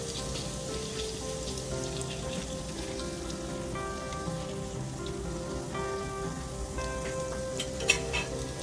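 Doughnuts fry in oil over a low flame, giving a soft, continuous fine sizzle and crackle that stays steady and fairly quiet throughout, with faint tonal kitchen hum beneath.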